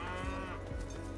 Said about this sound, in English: Cows are all over.